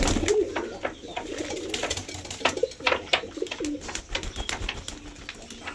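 Pigeons cooing softly and repeatedly while they feed and drink, close by, with scattered pecks and small rustles between the calls.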